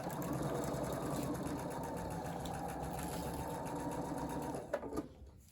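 A sewing machine runs steadily while stitching quilt block pieces together, a close, even whirring hum that stops abruptly near the end with a brief clunk.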